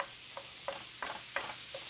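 Meat for a chopped cheese sandwich is chopped and broken up with a spatula on a hot griddle, making several sharp scraping taps over a steady sizzle, close and fairly loud.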